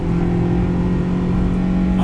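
A road car engine revs hard in second gear during fast track driving, a loud sustained roar held near the top of the rev range without letup, close and continuous.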